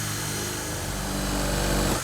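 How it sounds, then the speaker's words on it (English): A power drill bores a starter hole into a wooden porch deck, a loud continuous whirring grind held steady for about two seconds at close range. "In order to cut a square opening on the deck, we first need to drill a starter hole."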